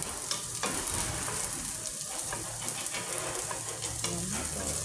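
Onions browning in oil in a frying pan, a steady close sizzle with occasional stirring clatter throughout, no voices.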